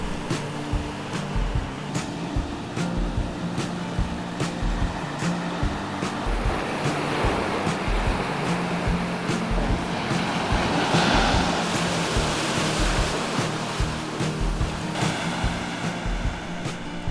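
Ocean waves wash continuously onto a secluded beach, a broad rushing surf that swells and recedes, with some wind buffeting the microphone.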